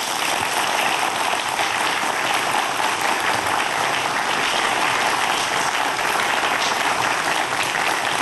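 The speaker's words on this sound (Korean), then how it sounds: "오늘 강연을 해주실 박문호 박사님을 큰 박수로 모시겠습니다." Steady, dense applause from a studio audience welcoming a guest lecturer to a Korean science talk show, continuous and even for several seconds with no voices.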